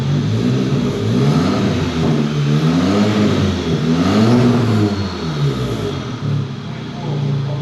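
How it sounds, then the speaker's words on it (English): An Audi S3 8V fitted with Stage 3 upgrades is revved repeatedly, its engine note rising and falling in several smooth, loud sweeps heard close up, then settling back to a steady idle. "Now when we rev it"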